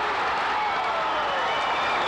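A boxing crowd in upstate New York roars and applauds steadily after a knockdown, a dense continuous wash of clapping and cheering without a break.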